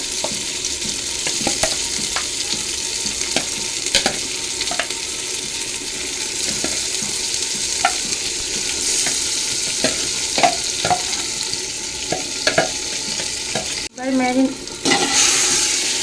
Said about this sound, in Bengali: মাটনটাকে ভালো করে কষিয়ে নেব আমি।